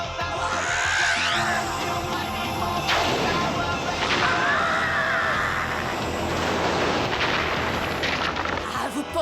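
Sword gun blasts in a Power Rangers battle, dense repeated booming shots and explosions under a swelling music track, loud and continuous throughout, with voices faintly mixed in.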